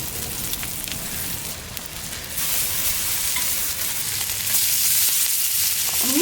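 Seasoned brisket fries on a flat-top griddle with a steady crackling sizzle that grows a little louder partway through, close and alone, with no talk.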